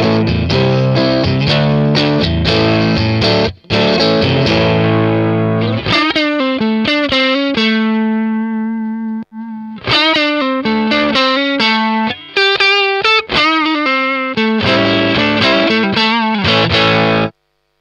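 Electric guitar played through a Poly Effects Beebo pedal using its Victory Sheriff 44 amp model, giving loud, driven chords and single-note phrases with sustained distorted tone and brief pauses, no talking.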